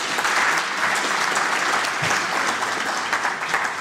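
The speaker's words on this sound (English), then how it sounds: "So let's give him another round of applause." Sustained audience applause at a diplomatic seminar on global politics, a dense, even roar of many hands clapping throughout, fairly loud and unbroken, with no talk over it.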